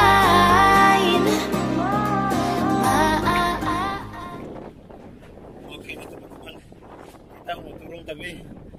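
Strong wind roars through a storm with rain, a low broadband rush that takes over after a stretch of loud music and continues with scattered gusts and faint voices.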